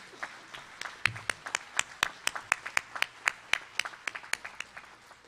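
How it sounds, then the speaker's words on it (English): Scattered audience applause for graduates at a spring community college graduation ceremony, made of distinct sharp claps in an irregular rhythm from a modest number of hands, fairly close and steady. "Family, continue to give them a round of applause for all their hard work and dedication."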